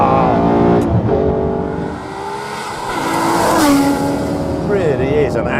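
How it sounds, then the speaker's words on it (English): Aston Martin One-77 engine revving with rising and falling pitch, loud and close, with a brief tire squeal and someone talking over it. "Really is an angry engine."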